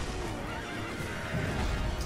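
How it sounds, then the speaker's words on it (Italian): Horse in the Sekiro video game neighing and whinnying with hoof clip-clop, a steady dense game soundscape at moderate level throughout. "Adesso salta anche il cavallo."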